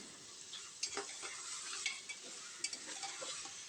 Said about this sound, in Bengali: এখন আমরা মাংসটাকে সুন্দরভাবে কষিয়ে নেব।